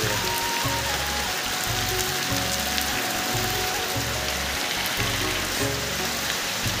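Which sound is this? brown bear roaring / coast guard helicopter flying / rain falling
rain falling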